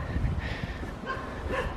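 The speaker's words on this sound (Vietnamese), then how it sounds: "Các bạn nghe tiếng chó sủa không?" A dog barks faintly somewhere off in the countryside near Sapa, with a few soft, muffled yips under light outdoor background noise.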